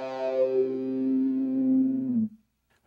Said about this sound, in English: So we have a micro metal muff going in, and it's in series with the filter, and it's going to sound a little something like this.